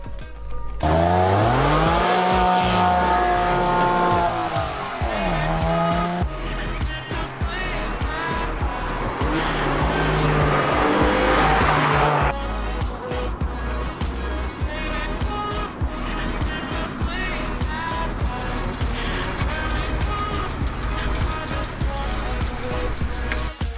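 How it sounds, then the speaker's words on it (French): A Porsche 996 Carrera engine screams at high revs while driven hard, pitch sweeping up and down through gear changes, with harsh rasping and tire squeals, loud and close. "notre ami Sylvain de chez EDG Racing, qui a voulu nous faire une petite démonstration des capacités techniques de cette Porsche 996"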